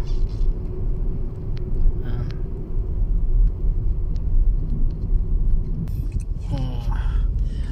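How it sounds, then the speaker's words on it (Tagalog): Heavy traffic on Khalid bin Al-Walid Street in Riyadh rumbles steadily with passing cars and engine drone, and a brief louder vehicle pass near the end, with a voice talking over it. "Medyo marami-raming sasakyan, traffic"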